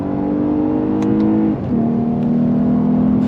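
A 2023 Lexus RC 350 F Sport AWD engine drones loudly and steadily while being driven hard through a corner on a twisty road, with a brief dip in tone mid-way as it shifts, then holds on.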